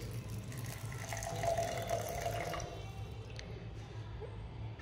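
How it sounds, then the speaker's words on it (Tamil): Water poured into a blender jar holding chopped big onion and fenugreek seeds, a soft continuous splashing pour that swells briefly and then trails off into light drips in a quiet kitchen. "ஃபைனலாக தேவையான அளவு தண்ணி."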